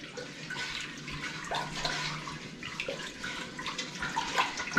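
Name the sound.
stirring salt into turkey brine to dissolve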